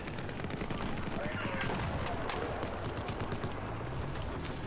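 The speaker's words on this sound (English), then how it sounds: "having it on burst mode, you have the chance of just doing little bursts like that and being super accurate" Rapid bursts of gunfire in Battlefield 4 with the rifle set to burst mode, short repeated volleys crackling over a dense battlefield din, with a voice talking underneath.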